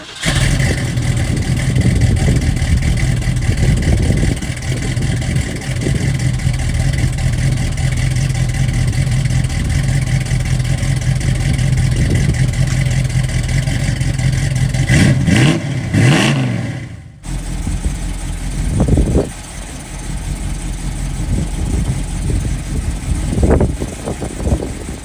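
A 1967 Mustang convertible restomod engine runs loud and close, idling and revving with a steady rumble before a brief rising rev and a quick cutoff as it pulls away, followed by quieter rolling engine noise.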